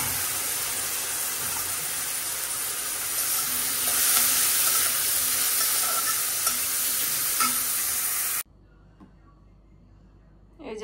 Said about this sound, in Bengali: এখন দিয়ে দিব ওই যে আলুটা একটু ভাজা নিই